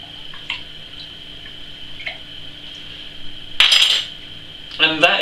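A metal spoon clinks against glass and a pot while adding a wine yeast compound to homemade mulled wine made from leftover wine, with a few light taps and two short bright rattling bursts over a faint steady hum.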